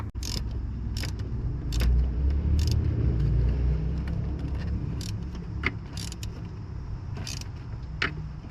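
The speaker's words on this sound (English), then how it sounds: "turn on the car, and see how it sounds" A car engine fitted with a VRSF charge pipe and HKS blow-off valve idles with a low steady rumble, while sharp metallic clicks and clinks ring out intermittently nearby.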